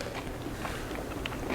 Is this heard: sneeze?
no